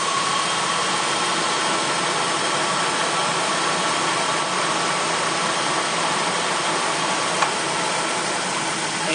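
A 2001 Dodge Dakota with the 4.7L engine idles steadily and close by during a coolant fill, giving a constant, even hum with no voices.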